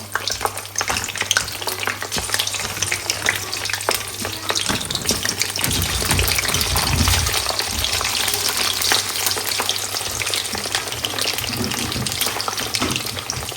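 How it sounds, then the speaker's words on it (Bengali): Small singaras frying in oil in a new pan on a cold, foggy day, a continuous close crackling sizzle that swells louder midway and carries on steadily, with no talking over it. "বছরের শেষ দিনে ছোট ছোট সিঙ্গারা ভাজা হবে নতুন নতুন পাতিলে।"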